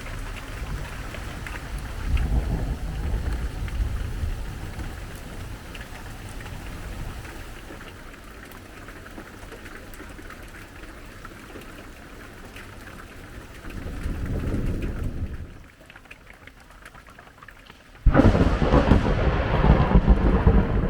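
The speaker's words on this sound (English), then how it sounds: "Another day, another rainstorm." Heavy rainstorm with thunder in Chiapas, Mexico: steady loud rain with rolling rumbles that swell and fade, a brief quieter lull, then a sudden loud close burst of rain and thunder.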